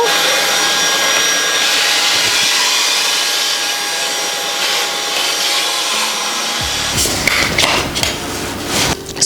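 A Halo Capsule X cordless vacuum cleaner runs in power mode 2 at a windowsill corner, a steady loud whirring drone that shifts to rougher, scraping suction noise as it presses into the corner.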